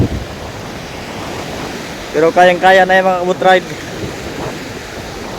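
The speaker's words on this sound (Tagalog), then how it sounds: "Malakas pa rin yung alon." Strong sea waves and gusty wind at the shore make a loud, constant roaring wash. A person walking along the beach speaks briefly in Filipino in the middle, over the surf and wind noise.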